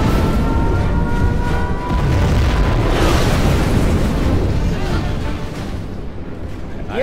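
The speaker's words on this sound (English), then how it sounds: "We have launched our nuclear missile" Nuclear missile detonation in Command & Conquer Generals Zero Hour, a loud, sustained rumbling blast with dense crackling debris that holds steady for several seconds before easing slightly at the end.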